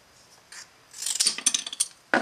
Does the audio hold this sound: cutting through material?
yes